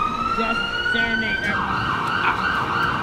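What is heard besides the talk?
ambulance siren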